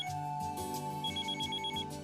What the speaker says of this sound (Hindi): मॉम का फोन है